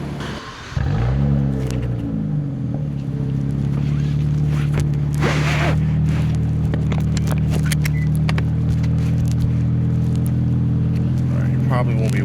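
Nissan Nismo Z with a manual gearbox and Nismo cold air intake, the engine revving up and then droning steadily and loudly from inside the car while driving, with faint rustles.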